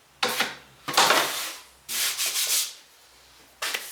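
A clay pot is trimmed on a pottery wheel with a tool against a wareboard, producing close, raspy scraping strokes in four separate bursts with short silent gaps between them.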